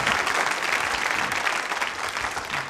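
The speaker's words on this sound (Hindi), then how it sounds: "तालियां जोरों से बजाइए, ये अति आवश्यक है।" Loud, sustained clapping from a nursing college audience at a quiz show, a steady dense roar of hands that holds its level throughout with no break.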